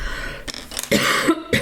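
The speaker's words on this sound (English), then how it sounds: "And also coughing all the time." A sick woman coughs and clears her throat, a few harsh, close bursts with short pauses between them, louder in the second half.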